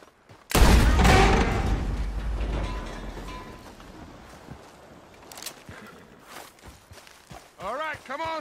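Gunfire in the video game Red Dead Redemption: a loud blast opens the clip and rings out, followed by scattered clicks and mechanical noises, then a short burst of further shots near the end.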